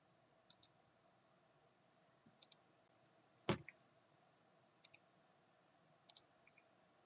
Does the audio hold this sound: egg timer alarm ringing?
no